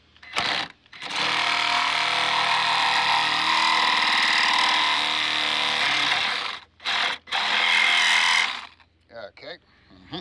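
A Sawzall reciprocating saw cuts into a Harley light, a loud, steady, buzzing rasp lasting several seconds, then stopping and restarting in two short bursts before a final sustained cut that fades into quieter handling noises.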